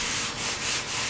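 Sandpaper rubs across the painted steel of a 55 gallon drum in back-and-forth strokes, a loud, close, hissing scrape with about three slight swells in rhythm and no talk.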